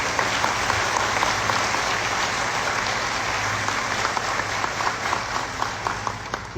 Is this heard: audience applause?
yes